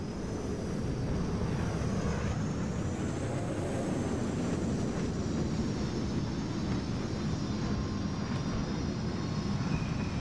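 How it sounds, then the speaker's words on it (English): Y-wing bombers on an attack run in Star Wars Battlefront roar past as a loud, continuous engine drone. A faint whine rises and sweeps across it. "Y-wing bombers are setting up for their attack run."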